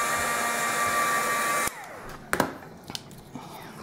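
A craft heat tool blows steadily on glitter over a base on altered heart clothespins, a loud broadband whoosh that cuts off sharply partway, followed by a few faint clicks and handling knocks.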